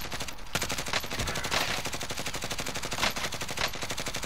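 Sustained rapid automatic gunfire in Call of Duty: Modern Warfare, dense and continuous bursts with a few louder shots standing out, filling the whole stretch without a pause.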